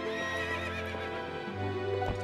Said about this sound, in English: Alright, we got our horse back.